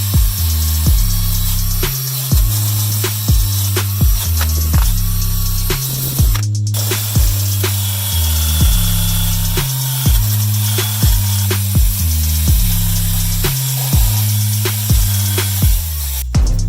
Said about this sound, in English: a drill with a wire brush head